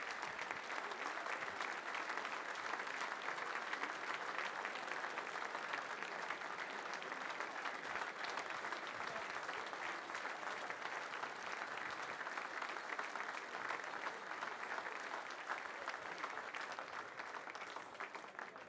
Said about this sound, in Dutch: Mag ik een groot applaus voor onze kunstenaar die